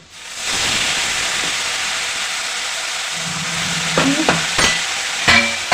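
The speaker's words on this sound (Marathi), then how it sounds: "आता आपल्याला लगेचच जे अळू शिजलेलं आहे ते थोडं घालायचं आहे" Cooked colocasia leaves are tipped into a hot pan and stirred, setting off a loud steady sizzle of frying with scraping and clinks of the spoon against the pan near the end.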